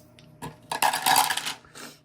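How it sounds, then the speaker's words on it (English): Three dice rolled in a tabletop game, giving a quick clatter of hard tumbling knocks and rattles over about a second, close and fairly loud, with a short final rattle as they settle. "So we got to roll 3 dice, and we need to roll 7 or more to succeed."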